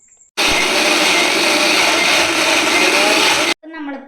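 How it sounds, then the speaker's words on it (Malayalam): An electric blender grinds pineapple for juice in a loud, steady whir that starts abruptly and cuts off sharply, followed by a brief moment of a voice. "നമ്മൾ പൈനാപ്പിൾ അരച്ചെടുത്തിട്ടുണ്ട്."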